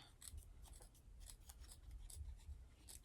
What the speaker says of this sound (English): you can make little snips along the curve if you need to